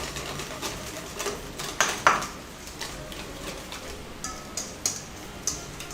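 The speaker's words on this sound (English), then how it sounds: "So then you just stop and, you whisk some more air in there." A whisk clicks rapidly against a bowl while Caesar salad dressing is beaten to work in air, a steady ticking rattle with a few brighter metallic clinks, close and moderately loud.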